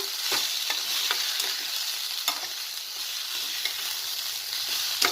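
Ivy gourd (tondli) fries in a pan while being stirred, a bright continuous sizzle broken by regular scraping clicks of the spoon, close and fairly loud with no talking.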